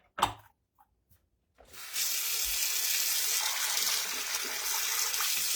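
Tap water runs steadily into a sink being filled to handwash a vintage wedding dress, a broad continuous rush that starts after a second or two of quiet and a few small knocks.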